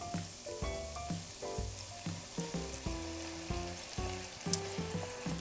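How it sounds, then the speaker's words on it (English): Red wine poured into a hot pan after browning short ribs over medium-high heat, sizzling and hissing steadily beneath louder background music. "I'm gonna let this wine deglaze the pan."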